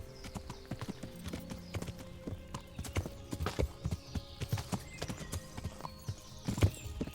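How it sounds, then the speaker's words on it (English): Horse hooves clip-clop in an uneven, close rhythm in Kingdom Come: Deliverance, the clattering steps fairly loud against a low background hum. "is that the horse I punched and then ran away?"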